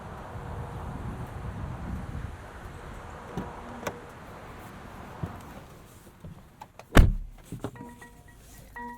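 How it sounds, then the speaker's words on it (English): A single solid car door on a 2021 Mercedes-Benz E450 4Matic sedan slams shut with a loud, sharp thud after a stretch of quiet outdoor background. "one of the most solid door closes in the car industry"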